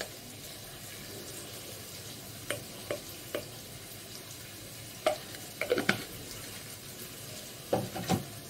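Turmeric and chilli powder fry in a pan for egg curry, giving a low steady sizzle with a few sharp scraping stirs and clinks, close and fairly quiet, with no one talking.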